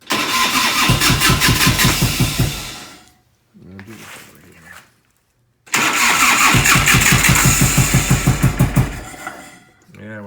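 A 1990 Harley-Davidson FLHTC Evo with a no-spark fault, running on only its back cylinder, cranks and catches in two loud, uneven, lumpy bursts of running. A short, quieter spell of cranking separates the bursts. It is close up with no clear talk.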